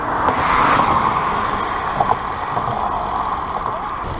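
A car comes up from behind a cyclist on a road past a pond, its engine and tyre noise a steady near drone that swells slightly, under wind rush.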